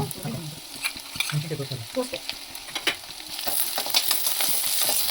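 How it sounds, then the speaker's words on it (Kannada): Sliced onions and green chillies sizzle steadily in hot oil in a pan, with occasional scraping stir sounds, close up and without any talk. "ಈರುಳ್ಳಿ ಸ್ವಲ್ಪ ಫ್ರೈ ಆದ ನಂತರ ಹಸಿರುಮೆಣಸಿನಕಾಯಿ ಹಾಕೋಣ."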